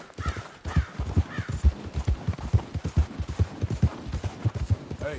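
Horse hooves clip-clop in a brisk, regular rhythm in Red Dead Redemption 2, close and prominent, with a few caw-like calls and ambient game sounds mixed in.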